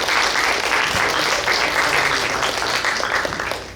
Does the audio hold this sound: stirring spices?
no